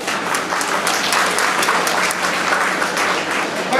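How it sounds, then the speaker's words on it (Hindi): Audience at a chess festival breaks into sustained, dense applause, a steady wash of many hands clapping close by for the full few seconds without a break. "जोरदार तालियां बजाएं राजस्थानी ग्रुप के लिए."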